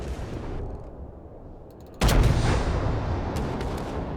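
A heavy booming naval cannon shot lands midway in World of Warships, followed by rumbling reverberation and scattered secondary blasts in a game battle soundscape.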